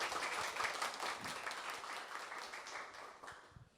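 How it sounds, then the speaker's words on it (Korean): Audience applause at a televised public lecture hall event, a faint, steady wash of many hands clapping that continues for about four seconds without talk. "박수 한번 다시 드리겠습니다"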